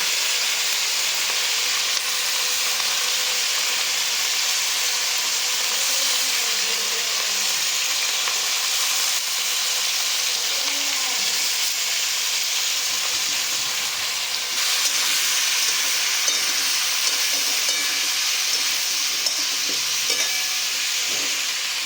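Capsicum and onion frying for chili kofta paneer, a steady broadband sizzle with faint stirring clinks running continuously throughout, no talking.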